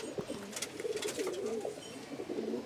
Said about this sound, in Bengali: দেখেন ভিউয়ার্স এখানে কত কবুতর হয়েছে